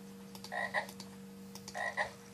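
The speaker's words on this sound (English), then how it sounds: "you'll hear the croak if the frog is permitted to go to that particular space" Two clear frog croaks from the frogFrenzy video game, each a short pair of throaty ribbits spaced about a second apart over a constant low electronic hum.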